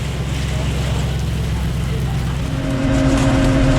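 Aston Martin Vulcan supercar, detuned to about 700 horsepower, driving through very heavy wet weather; a loud, steady low engine drone blends with broad wind and spray roar throughout, with a higher tone joining and building in the final second.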